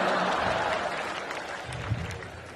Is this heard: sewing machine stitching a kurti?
no